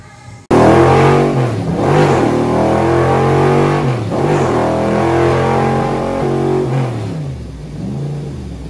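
A Cobra Daytona Type 65 race car engine revs hard on a dyno, a loud, sustained roar that climbs and dips through several throttle sweeps before easing off near the end, with no talk over it.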